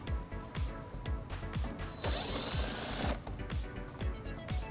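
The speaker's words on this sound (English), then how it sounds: "it exposes this screw that we'll remove using an 8mm socket" Ratchet wrench with an 8mm socket backing out a bumper screw on a 2008 BMW X5, a steady run of close, rapid clicks with a brief burst of hissing noise partway through.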